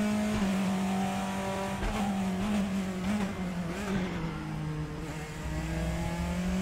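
Race car engine in the RaceRoom racing sim, a steady loud drone with shifting revs and gear changes across the whole stretch, with no voices over it.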